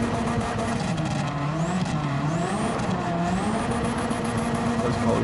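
Engine-swapped Subaru in Gran Turismo 7, its engine holding a loud, steady racing drone that rises and falls in pitch with brief tire squeals, driving continuously with no talk.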